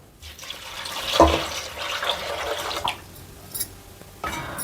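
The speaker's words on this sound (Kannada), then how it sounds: "ಇವಾಗ ಇದಕ್ಕೆ ಎಷ್ಟು ಬೇಕಷ್ಟು ನೀರು ಹಾಕೊಳ್ಳೋಣ" Water is poured into a cooking pot of jackfruit seed sambar with salt and turmeric, giving a soft, uneven splashing and trickling with a few louder splashes. The sound is close and moderate, with no voices.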